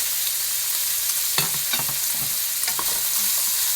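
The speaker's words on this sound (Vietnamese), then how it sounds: "Mình trộn cho nó đều lại." Pork and small shrimp stirred in a hot frying pan, with a steady broadband sizzle and a few clicks and scrapes of the utensil against the pan, close by and with no talk.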